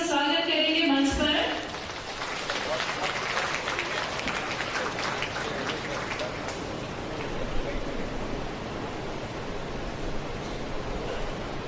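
A church gathering claps steadily and continuously, a dense wash of applause welcoming a priest to the stage after a short spoken announcement.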